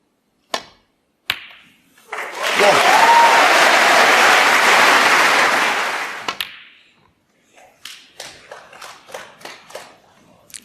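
Snooker crowd applauding during Ronnie O'Sullivan vs. Mark Williams: a few isolated claps, then a loud sustained burst of applause for about four seconds that fades, followed by scattered single claps.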